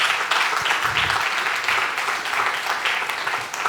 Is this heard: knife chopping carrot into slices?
no